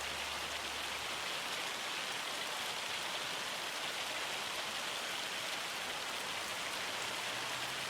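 Steady rain falls in the farming game Farming Simulator 25, a dense, even hiss of drops with no breaks, loud and continuous throughout.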